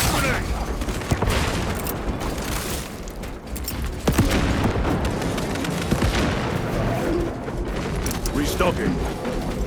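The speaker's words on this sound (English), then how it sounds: "Throwing flash grenade!" Flash grenade thrown in the video game Space Marine 2, a loud burst within a dense, continuous stream of battle gunfire and booms, with a voice speaking over the chaos.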